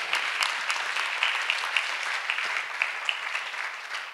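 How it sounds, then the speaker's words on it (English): A church congregation applauds after a testimony of deliverance and healing, steady dense clapping with small peaks throughout, loud and close, with no talk over it. "Let us clap for Master Jesus once again."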